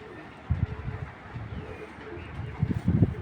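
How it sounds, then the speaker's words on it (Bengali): Low, soft cooing of a purple-necked male pigeon in short bursts, a few close together near the start and a cluster toward the end, over quiet background hiss. "এটা হলো বেগুনি গলা একটা কবুতর"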